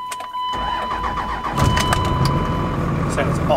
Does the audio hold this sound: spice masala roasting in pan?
no